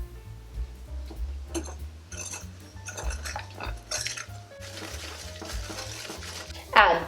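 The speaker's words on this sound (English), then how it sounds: "Whisk these together well." A whisk rattles quickly against a bowl while blending granulated sugar into brownie batter, light irregular clinks and scrapes close by, ending in a sharper metallic tap.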